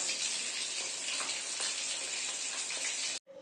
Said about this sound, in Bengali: পেঁয়াজ আর লঙ্কা দিয়ে মাছ ভাজা হবে